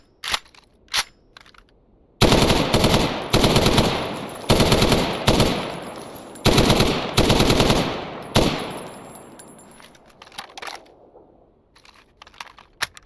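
Vulkan M bullpup rifle firing in STALKER Anomaly, a couple of single shots and then long, loud automatic bursts in rapid repeated volleys that trail off into a few scattered shots.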